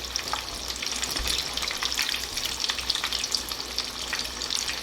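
Potato doughnuts deep frying in oil over a medium-low flame, a steady dense crackle and sizzle close up, running evenly throughout with no voices.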